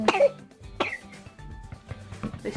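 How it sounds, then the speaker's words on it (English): A 19-month-old toddler coughing, a few short, close, raspy coughs and throat-clearing sounds spread over a couple of seconds with quieter breathing between. "Oh, you're coughing."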